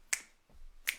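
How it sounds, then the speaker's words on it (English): Two sharp finger snaps about three-quarters of a second apart, crisp and close, keeping time at a live family concert. "You can snap your fingers with me."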